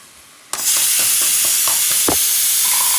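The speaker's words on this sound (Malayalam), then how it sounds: "മുരിങ്ങയില നന്നായി ഇളകട്ടെ" Moringa leaves drop into a hot pan with a sudden loud sizzle, then keep hissing steadily while a spoon scrapes and stirs them in short repeated strokes.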